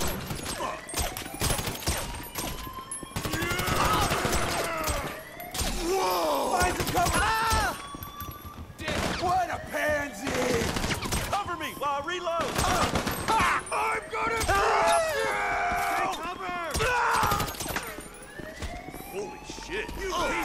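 Heavy, near-continuous gunfire during a casino heist in GTA V Online, with rapid volleys and wailing police sirens sweeping through, while voices talk over the chaos.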